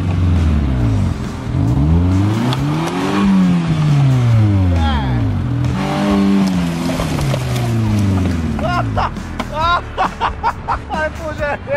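A cheap used Renault Clio being driven off-road, its engine revving hard and loud up close in repeated rising and falling sweeps, then easing into rougher, choppier bursts.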